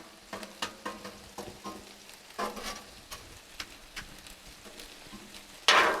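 Frozen, seasoned chicken pieces sizzle and crackle on an oiled Blackstone griddle, close-up and alone, with scattered pops and scraping stirs, then a sudden louder burst of sizzle near the end.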